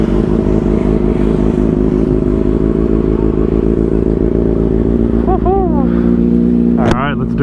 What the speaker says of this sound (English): I was lucky enough to get to ride this insane Kawasaki ZX6R track spec